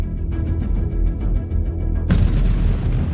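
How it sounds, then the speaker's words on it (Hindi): A landmine blast stops a military vehicle in a war zone under drone watch, heard as a loud, sudden explosion partway through over a heavy rumbling background that lingers and decays afterward. "एक बारूदी सुरंग ने फिर एक वाहन को रोक दिया।"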